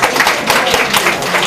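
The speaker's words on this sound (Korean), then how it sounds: "박수하겠습니다." Applause from an audience at a hospital church faith retreat, a brief burst of many hands clapping in a steady patter, fairly loud and close, with no voices over it.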